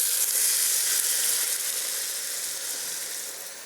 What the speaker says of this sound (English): So I'm going to deglaze it. It's going to be a little bit noisy.